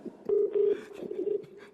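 A telephone being dialed to call a viewer on a variety game show: a short run of clear, steady tone beeps close up and fairly loud, with no voices over them.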